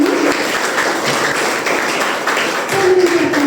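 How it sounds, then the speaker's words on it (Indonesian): Loud, sustained applause from an audience of parents and guardians at a morning school seminar in a hall. Dense, steady clapping fills the whole stretch, with a faint voice rising near the end. "Saya mendengar lagi tepuk tangan dari Bapak Ibu sekalian pada pagi hari ini."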